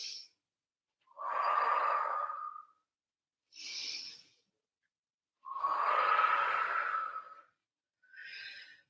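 Deep breaths during a fierce bootcamp-style yoga workout alternate between long, airy inhales and exhales and shorter, higher hissing breaths in a steady rhythm, close and clear, with no talking.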